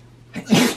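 A single short, sharp sneeze from a cat, close by, after a moment of quiet.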